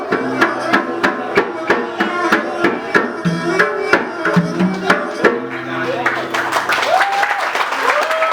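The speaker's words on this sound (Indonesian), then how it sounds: "Boleh beri tepuk tangan yang sangat meriah sekali lagi" An audience at a traditional sinrilik performance and award event claps in a steady, rhythmic pattern, loud and near, while voices talk over the clapping toward the end.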